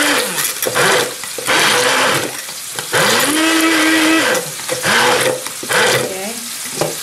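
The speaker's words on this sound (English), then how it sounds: "I'm going to blend a part of strawberry because I want to give some color to the rice." Strawberries being puréed in a blender to colour rice for a strawberry risotto, the motor whirring in short, loud pulses of about a second each, its pitch rising and falling between brief pauses.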